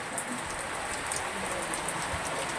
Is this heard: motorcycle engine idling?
no